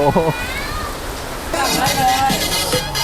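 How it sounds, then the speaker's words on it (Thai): Rain falls at the Phra Pathom Chedi temple fair in Nakhon Pathom, a steady close hiss of rain on surfaces with people talking over it. "ฝนตกครับ"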